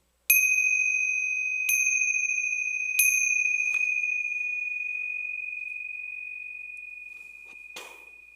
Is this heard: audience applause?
no